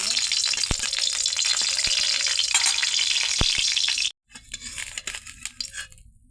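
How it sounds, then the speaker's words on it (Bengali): Dried red chillies fry in oil in a wok with a loud, busy sizzle and a few sharp clinks of a utensil, then the sound cuts off abruptly and returns as quieter, uneven crackling. "মরিচ ভাজা হয়ে গেল।"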